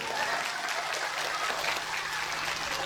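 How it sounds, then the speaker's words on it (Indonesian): Applause for the Banser at an outdoor religious sermon gathering in Tanjung Jaya, Lampung, a steady wash of many hands clapping, moderately distant and continuous, with a faint hum underneath. "Tepuk tangan tuh Banser."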